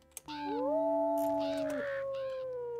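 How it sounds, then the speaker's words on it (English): Wolves howl in the video game WolfQuest: a clear, sustained tonal howl rising then holding steady, with a second overlapping voice, close and loud after a brief click. "Howl some more."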